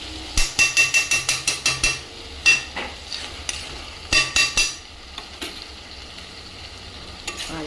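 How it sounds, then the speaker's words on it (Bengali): Spice paste fries in ghee in a pan with a sizzling hiss, broken by bursts of rapid scraping and stirring strokes at close range. "ভালো করে ভাজা ভাজা হবে মশলাটা।"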